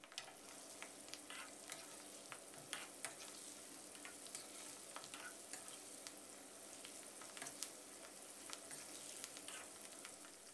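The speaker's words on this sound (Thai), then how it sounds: "ให้เราใส่หมูลงไปทอดให้สุกเหลืองเลยนะครับ" Pork belly frying in hot oil over medium heat while it is stirred, giving a steady, fairly faint crackling sizzle with scattered sharp pops and occasional scrapes throughout.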